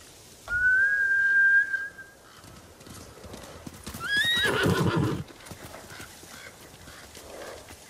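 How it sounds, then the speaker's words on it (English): In Ghost of Tsushima, a long whistle, then a samurai horse whinnies over a burst of galloping hooves as the horses run off, quickly fading, leaving a low ambient rumble. "Bastards scared off the horses."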